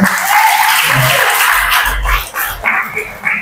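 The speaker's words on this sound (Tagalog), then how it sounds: "kung gusto niyo pumalakpak kayo kayo" Congregation at a Filipino sermon breaking into clapping, a loud dense burst that thins out, with a dog barking and yipping nearby partway through.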